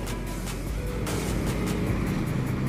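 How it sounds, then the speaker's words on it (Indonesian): A PO ANS Royal Eksekutif single-glass bus pulls into the Padang Panjang bus terminal, its engine a steady, heavy low rumble that stays fairly loud and close throughout, with no talking. "ada Pislof ANS single glass Royal Eksekutif yang baru sampai dan memasuki terminal bus Padang Panjang"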